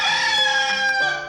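Rooster crowing once, a single bright, drawn-out cock-a-doodle-doo heard close and clear with nothing else around it.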